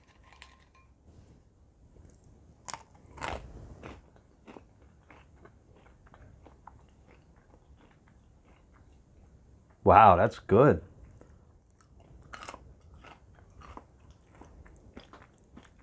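Loud crunchy bites and chewing of keto almond-flour pretzel sticks stand out in short bursts, followed by quieter chewing, with someone speaking briefly between bites.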